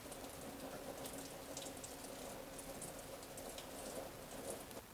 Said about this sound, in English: Just unscrew it until it starts pouring coolant out of there and drain that radiator.